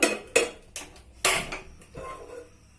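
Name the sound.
wok being handled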